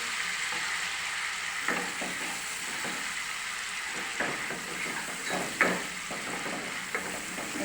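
Spices and turmeric fry in a pan for an onion- and garlic-free shahi matar paneer, giving a steady close sizzle broken by occasional scrapes and taps of a spoon as the mixture is stirred.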